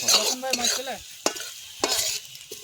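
Chicken frying in a pan on a village cooking fire is stirred with a spatula, making a few sharp scraping strokes over a soft sizzle, with a brief tonal voice-like sound at the start.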